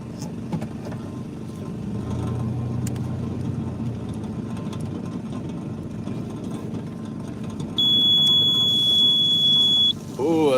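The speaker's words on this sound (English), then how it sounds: "Oh, that beep is just too much." A steady machine hum runs throughout, then a high, continuous electronic beep sounds for a couple of seconds near the end.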